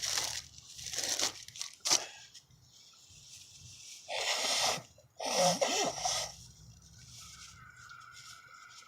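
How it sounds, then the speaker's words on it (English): A person blows their nose in several loud, wet honking bursts separated by pauses, close to the microphone, with quieter rustling and sniffing between. "hold on, I gotta blow my nose."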